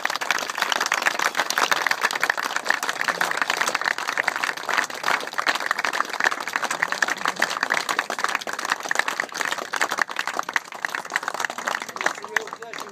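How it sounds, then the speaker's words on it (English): Applause at a trophy presentation for the Woodford Wells Trophy, steady clapping from a crowd indoors that carries on unbroken for the whole stretch. "I would really like everybody to give a round of applause in appreciation"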